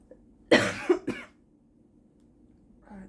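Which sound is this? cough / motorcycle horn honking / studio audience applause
cough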